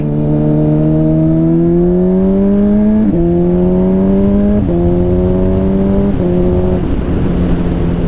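A 2006 Honda CBR1000RR Repsol sport bike with a Healtech quickshifter accelerates hard, its engine note climbing steadily through three clutchless upshifts, each marked by a brief dip in pitch, loud and continuous throughout.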